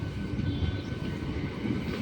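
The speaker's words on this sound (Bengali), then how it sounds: "চলে এসেছে বন্ধুরা আমাদের ট্রেন" A local train in Hyderabad arrives at a station, a dense low rumble of engine and rolling wheels filling the whole stretch, steady and loud with no voices.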